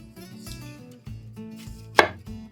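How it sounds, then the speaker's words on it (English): A knife chops food on a cutting board in a light chop, several crisp, close knocks in an uneven rhythm with one sharper strike, no voices. "We're just going to do a light chop."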